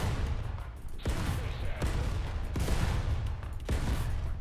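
Rapid-fire aircraft cannon in War Thunder hitting a tank, heard as several sharp, loud bursts spaced about a second apart over a continuous roaring engine and battle rumble.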